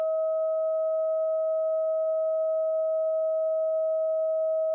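A struck tuning fork sounds a pure steady tone for the green heart frequency, used in a healing hypnosis session. It rings loud and unbroken for the whole stretch, with no talk.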